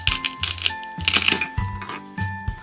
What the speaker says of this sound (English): Now we're just gonna use this knife to cut it.